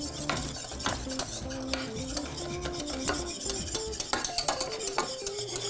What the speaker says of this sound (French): Arrêtez pas de brasser tant que ça n'a pas épaissi.